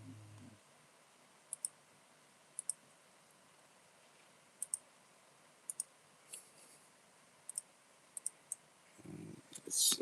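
A computer mouse clicks in sharp pairs, about a dozen spaced crisp clicks over quiet room tone, with a faint low rumble at the start and near the end.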